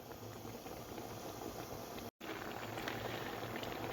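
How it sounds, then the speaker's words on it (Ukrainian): Zucchini in tomato sauce boiling actively in a pot, a steady quiet bubbling and gurgling that continues throughout, broken by one very brief dropout, with no talking. "вони закипіли активно"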